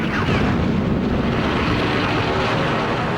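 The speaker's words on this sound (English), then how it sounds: "Planes from a massive armada surprise the US Pacific Fleet at Pearl Harbor." Engines of attacking Japanese warplanes over Pearl Harbor in December 1941 give a loud, dense, unbroken roar. It has the grainy, noisy quality of archival film sound, and no voices are heard.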